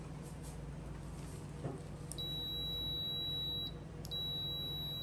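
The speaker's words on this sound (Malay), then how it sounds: "kita test Keiretsu punya buzzer" A Kyoritsu clamp meter's continuity-test buzzer sounds a steady high-pitched tone twice, the first lasting a second and a half, the second starting near the end, over a low hum.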